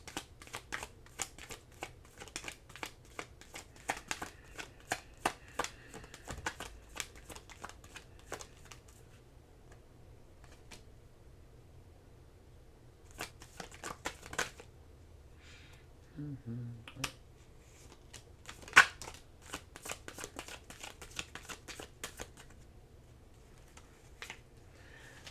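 A deck of tarot cards is shuffled close up: quiet, irregular bursts of riffling and flicking cards, with short pauses between bursts and a faint room hum underneath.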